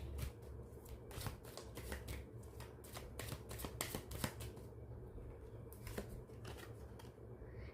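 Tarot cards riffled and shuffled continuously, a dense run of crisp papery flutters and soft slaps, close and fairly quiet, with no talking.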